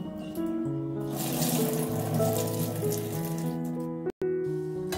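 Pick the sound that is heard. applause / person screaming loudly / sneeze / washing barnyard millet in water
washing barnyard millet in water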